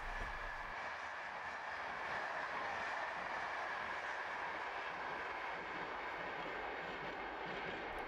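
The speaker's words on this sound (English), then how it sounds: "Stock is refurbished Corail Teos coaches." A French passenger train of refurbished Corail Teos coaches runs past as a steady, fairly distant rolling roar with a faint rail hiss, no voices.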